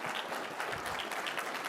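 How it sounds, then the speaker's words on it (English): Audience applause at a national security conference, a steady wash of many hands clapping together, fairly loud and continuous throughout with no speech over it. "Let's give another round of applause for an excellent conversation"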